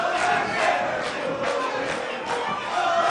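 A large wrestling crowd at the NYC Arena roars in sustained, loud cheering and shouting at a House of Glory anniversary event, a dense continuous wall of voices with no commentary over it.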